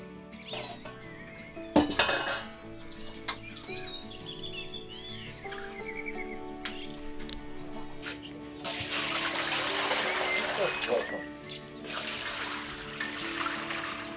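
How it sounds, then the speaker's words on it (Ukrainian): Dishes are washed in a village kitchen: running water splashes in a steady burst midway, with clinks and clatters of crockery before and after. "знову мию посуду"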